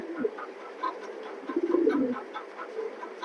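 A breeding pair of pigeons, the cock courting the hen, coos softly in repeated low rolling calls close by, with a quiet background hiss.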